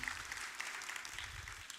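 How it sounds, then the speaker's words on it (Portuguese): Workshop audience at a 2023 course talk gives a brief round of steady applause, fairly faint and diffuse, with a few scattered voices underneath. "Palmas para ele. Vamos! Palmas!"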